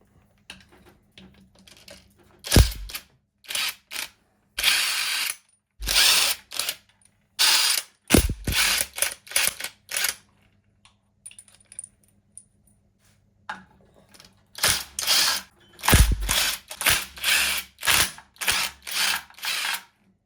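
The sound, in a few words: ratchet unscrewing bolts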